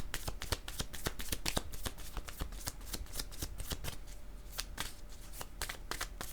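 Tarot cards shuffled by hand give a steady, close run of rapid crisp riffling flicks for several seconds, with no voices.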